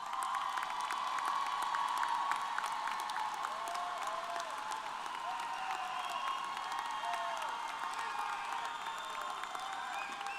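A large crowd applauds steadily at a distance at a university commencement ceremony, a dense wash of clapping with a few faint cheers and whoops mixed in.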